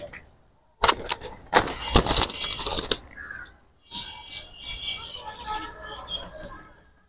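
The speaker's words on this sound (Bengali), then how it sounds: "তো দুইটা কবুতর ছেড়ে দেখাচ্ছি" Two Dabla pigeons released by hand burst into a loud flurry of wing claps and flapping for about two seconds, followed by softer fluttering and rustling as they settle.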